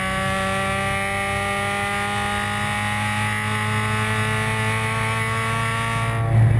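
Several ITA race cars run nose to tail at Summit Point, their engines blending into a loud, sustained, steadily climbing whine with no voices over it.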